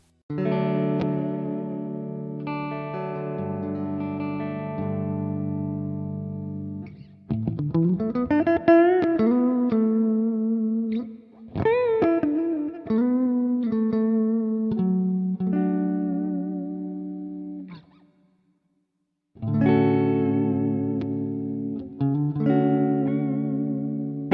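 Clean electric guitar with a shimmering chorus effect plays sustained chords and slides, with a short pause before the strumming resumes.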